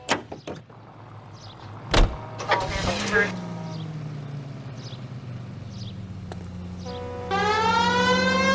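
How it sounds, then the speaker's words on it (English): Police car siren in the L.A. Noire video game starts wailing after a few car door thunks and engine hum, rising and sustained near the end. "We have a siren."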